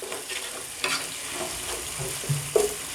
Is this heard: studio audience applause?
no